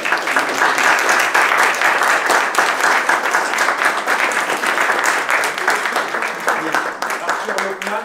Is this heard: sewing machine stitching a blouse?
no